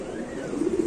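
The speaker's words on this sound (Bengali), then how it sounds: "এখানে আছে এক জোড়া বিউটি কবুতর" Pigeon cooing from a pair of Indonesian-coloured fancy pigeons, a low, continuous murmuring coo that rises slightly toward the end, close and moderately loud with no talk.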